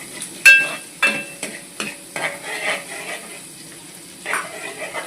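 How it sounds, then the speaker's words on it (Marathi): Onion tempering in hot oil for a Malvani prawn curry: a steady sizzle broken by repeated scrapes and knocks of a spoon stirring against the pan. "तेलामध्ये कांदा मी फोडणीला दिलाय"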